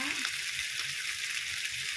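Marinated beef ribs sizzle steadily in a teflon pan over low heat, giving a constant close crackling hiss with no pauses.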